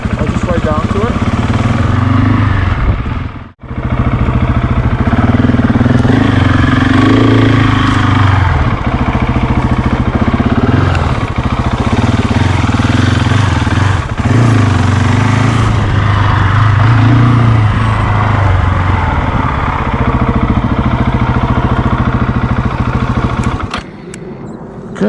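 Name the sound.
Husqvarna 701 motorcycle riding to off-road area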